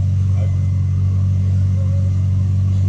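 A Subaru Impreza engine idles steadily, a loud, constant low rumble close by with no change in pitch throughout.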